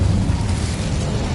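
An Incendio fire spell bursts in Hogwarts Legacy as a loud, roaring whoosh of flame, dense and steady across the brief moment with no voice over it.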